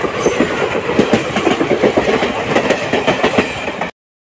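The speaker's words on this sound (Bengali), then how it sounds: "এইমাত্র আমাদের ট্রেন ছেড়ে দিল পাঁশকুড়া স্টেশন" A local train pulling out of Panskura station runs with a loud, rhythmic clickety-clack of wheels over rail joints, heard from on board with no talk until it stops abruptly.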